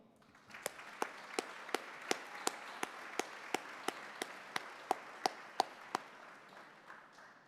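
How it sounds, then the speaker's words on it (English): At an awards banquet, a thin run of about sixteen crisp, evenly spaced claps sounds faint and a little distant over a quiet room hush, then stops. "please give a round of applause to the Executive Director of Shirley and Billy Weir Foundation, Mike McCullum."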